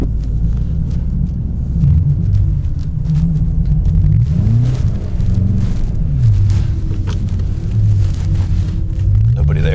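A 700hp BMW M5 drives through a Canadian snowstorm, its engine a heavy, continuous low rumble that rises and falls with throttle, under occasional faint talk inside the car.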